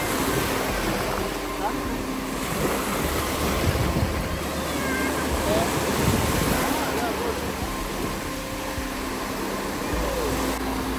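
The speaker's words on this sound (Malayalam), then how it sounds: "നല്ല തിരയുണ്ട് അല്ലേ?" Sea waves at Al Khan Beach in Sharjah wash in as a steady, close rushing surf with wind noise on the microphone, and people talk faintly beneath it.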